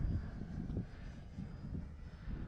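An E-flite EC 1500 RC plane flies in high wind, its engine drone steady and fairly distant beneath heavy low rumbling wind buffeting on the microphone.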